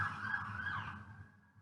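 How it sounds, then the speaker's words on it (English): Police car sirens wail past outside, a steady rising-and-falling tone heard through a wall that slowly fades as the vehicles move away. "now there's a shit ton of police cars going by"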